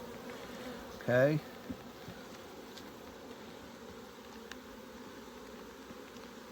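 Honey bees hum around an apiary hive in a steady, fairly faint drone, with one louder buzz as a bee passes close, and a single brief spoken word near the start.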